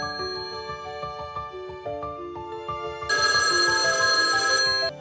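A mobile phone rings with a melodic tone, a run of single electronic notes giving way to a louder, brighter repeating ring that sustains for a couple of seconds, then stops abruptly.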